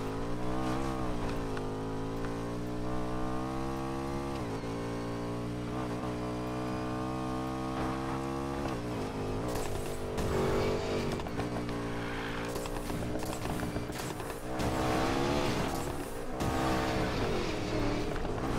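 McLaren 570S in Need for Speed Payback: a loud, sustained engine drone with rising revs and gear shifts, later mixed with tire squeal and busier racing noise throughout, no talking.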